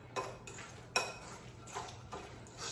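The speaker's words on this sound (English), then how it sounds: "stir that around." Spoon stirring guacamole ingredients in a bowl, soft scraping broken by a few light clinks and taps against the bowl, quiet and close.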